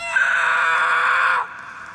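A boy's long, loud scream used as a sound effect in a scary story, held steadily for over a second and then cut off abruptly, with no talk.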